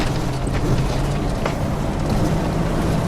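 An RV engine labours up a hill, a steady low drone heard from inside the vehicle with road and wind rumble, continuous and fairly loud throughout with no talk.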